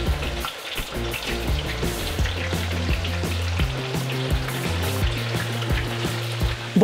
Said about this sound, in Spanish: La manteca ya está, pero si bien caliente, voy a empezar a agregar la carne.